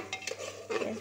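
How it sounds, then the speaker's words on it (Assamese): Onions frying in hot oil make a soft sizzle, broken by quick scraping stirs and light clinks of a spatula against the pan, close and brief with no talking. "পিঁয়াজ ভাজি হৈছে।"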